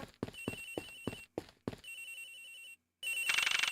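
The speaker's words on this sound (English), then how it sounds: "A ringing's from somewhere in here, sir." A telephone rings in the Ace Attorney Investigations video game, a rapid electronic trill repeating in short bursts with pauses between them, clear and close, with no voices over it.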